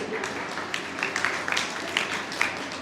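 Clapping fills a hall at a school investiture ceremony, a continuous broad patter of many hands kept fairly soft and even, with a few sharper claps standing out.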